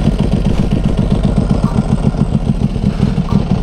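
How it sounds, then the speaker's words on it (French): A Ducati 1100 Hypermotard Evo engine idles steadily with a low, lumpy, throbbing beat, close and loud throughout, no voices. "Alors attends, je vais la démarrer."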